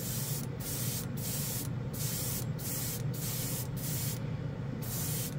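Airbrush spraying pearl metal flake paint decanted from a spray can, a steady soft hiss interrupted by brief regular pauses roughly every half second, close and fairly quiet.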